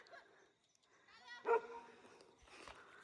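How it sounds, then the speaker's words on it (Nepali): A dog in a rural Nepali village gives one sharp, close bark with a whiny tone among quieter yips and whimpers, and faint voices sound nearby. "अब को आयो भने कसरी भुकेको भाइ है"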